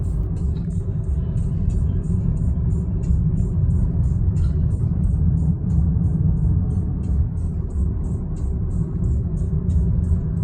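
Car driving into a canyon near Amarillo, Texas, a steady low engine and road rumble throughout with constant tire and wind noise, fairly close and no speech.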